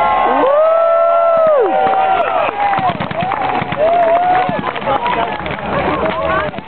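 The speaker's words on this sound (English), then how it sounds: "these are our boys. Let's have a cheer." Spectators at a historical reenactment festival cheer and whoop, loud and sustained, while a commentator talks over a public address system throughout.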